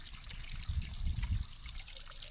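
Water trickles from a squeezed drink bottle during ultramarathon training on a high route, a faint, short, uneven dribble that swells briefly in the middle, with no talk.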